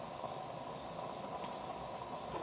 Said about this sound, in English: So now I'm going to crack the valve just a little bit and get some steam